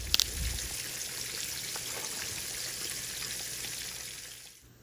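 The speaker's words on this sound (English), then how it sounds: "I know y'all heard that sizzling." Oil sizzling as fish fries in a home kitchen, a steady, close, broadband crackle that holds evenly for several seconds after a brief pop at the start, then fades at the end; no talking.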